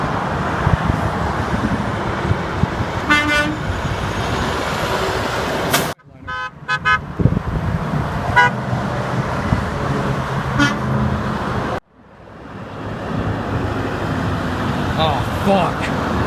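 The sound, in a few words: 4-pitch truck air horn honking on I-10 highway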